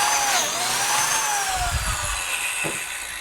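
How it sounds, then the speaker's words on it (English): A biscuit joiner spins up and plunges into a wooden apron piece for a raised dog bowl stand, with a high motor whine that falls off after a short cutting burst, close and loud, with no talk. "and we go ahead and cut our biscuit"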